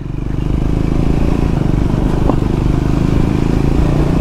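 A motorcycle rumbles steadily while riding a bad, rough road, its low engine drone loud and close with constant wind and road noise, a faint clatter breaking through once.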